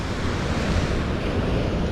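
Ocean surf crashes against rocks in a loud, continuous roar mixed with heavy wind buffeting the microphone, with no talking.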